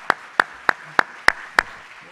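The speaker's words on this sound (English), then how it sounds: "That's an applause." Six sharp, evenly spaced hand claps sound at an awards ceremony in a slow, deliberate rhythm, close and crisp against a quiet room rather than a full crowd's roar.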